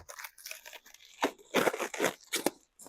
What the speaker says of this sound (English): So I will unwrap them